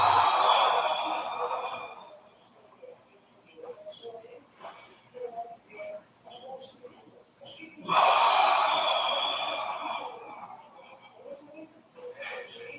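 Two big, forceful inhales during a spine flexibility exercise, one at the start and another partway through, each a loud, rushing breath close up, separated by quieter shuffling and softer breathing.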